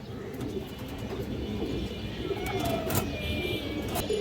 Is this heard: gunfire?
no